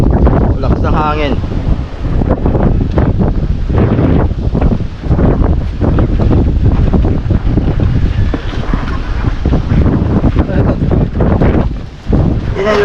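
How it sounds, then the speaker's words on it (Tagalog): Heavy wind roars and buffets the microphone continuously, loud and close, with a voice speaking under the noise. "Lakas ng hangin."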